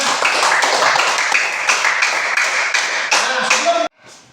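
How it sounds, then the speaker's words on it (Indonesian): A classroom of students clapping together for a classmate during a religious studies lesson, with loud, rhythmic clapping close by and some chatter mixed in, stopping abruptly near the end. "Tepuk tangan untuk Ridho ya"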